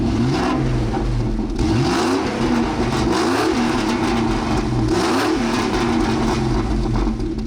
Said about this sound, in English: even though it's not the factory AMG exhaust, it still sounds pretty good